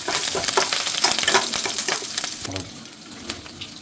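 Ginger, garlic and curry leaves frying in a hot pan for fish curry, a steady crackling sizzle with stirring scrapes, close and fairly loud, with no voices.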